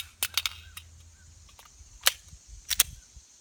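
Handgun speed reload during a concealed-carry draw drill: a few sharp metallic clicks and clacks of a magazine being swapped and the slide worked, close and crisp with short gaps between, no talk.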